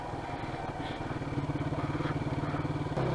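A 2005 Honda CBR 125R motorcycle engine drones steadily while riding, a close, continuous mid-pitched hum with rhythmic pulsing that grows slightly louder and rougher toward the end.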